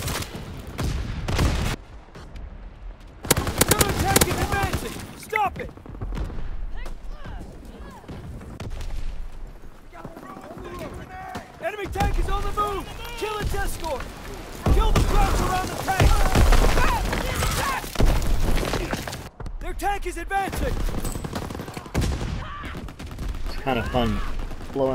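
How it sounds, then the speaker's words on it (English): Blunderbuss fire in Call of Duty WWII, heard as repeated heavy, booming shots mixed with other battlefield gunfire and explosions, while people talk over the action. "Have you played with the blunderbuss?"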